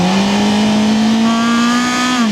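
A CFMOTO 500SR four-cylinder motorcycle engine revs hard past 7000 rpm, giving a loud, close, sustained high-pitched wail that climbs steadily and then drops off at the end.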